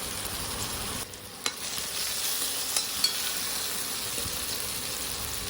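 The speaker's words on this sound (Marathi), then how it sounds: "कारली कटिंग केलेलं टाकून घेऊया मस्त मिक्स करून घेऊ आपण" Cut bitter gourd in masala stir-fries in a pan, a steady moderate sizzle broken by a few scraping clicks and knocks as it is mixed, with no talk.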